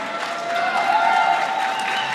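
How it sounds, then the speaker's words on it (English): A crowd claps at a medieval MMA fight event, steady applause with a faint tonal hum running under it throughout. "Round of applause for that, absolutely"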